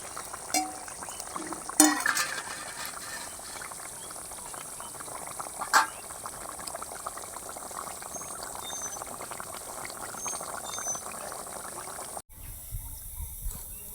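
Potatoes boil in a pot, giving a steady soft bubbling hiss throughout with a couple of faint clinks, before a sudden cut to quieter room sound near the end.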